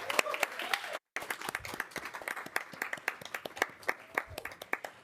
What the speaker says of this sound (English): let's for another round of applause